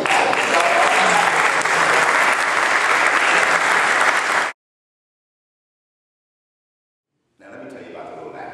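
Graduating high school students at a baccalaureate service applaud and cheer in a large hall, loud dense clapping for several seconds that breaks off into silence before the clapping resumes.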